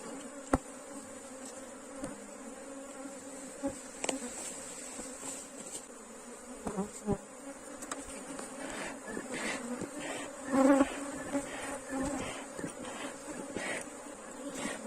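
A honeybee (Apis) swarm buzzing during a hive split, a dense, steady drone of many bees close by, with individual bees whizzing past and occasional knocks and handling sounds.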